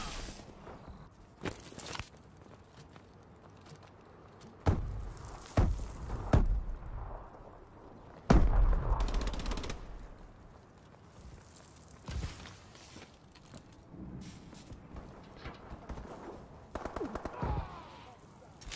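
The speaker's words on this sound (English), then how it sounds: "Give me covering fire!" Video game gunfire: scattered machine-gun bursts and single shots, some loud and close, others distant, with footsteps and faint voices in between.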